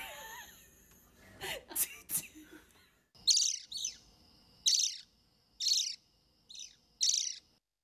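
A person imitating a noisy miner bird: six sharp, high, descending calls spaced about a second apart, preceded by some breathy sounds and a brief voice.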